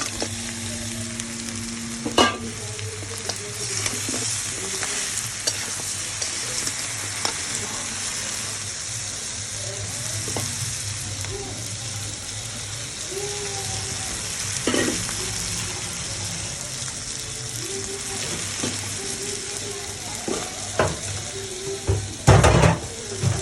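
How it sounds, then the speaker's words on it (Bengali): Crab frying in a spice masala of turmeric, chilli powder, tomato and fried spices, a loud, constant close sizzle with scattered clinks and scrapes of stirring and a cluster of heavier knocks near the end. "এবার এই মশলার ভিতরে দিয়ে দেবো আমি এই কাঁকড়া।"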